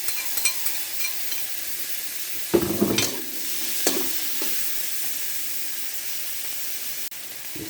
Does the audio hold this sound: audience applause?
no